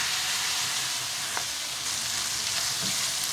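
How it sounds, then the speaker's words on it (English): Vegetables sizzle steadily in a hot pan for steak fajitas, a continuous broadband frying hiss with a couple of faint stirring clicks, close and alone without talk. "Now we'll go ahead and put in our veggies."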